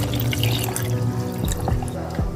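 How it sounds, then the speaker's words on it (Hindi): Water poured from a container into a grinder jug holding fresh spinach leaves, a steady close splashing pour with low gurgling, running continuously with a few drips near the end. "अब ये पानी इसमें डालेंगे।"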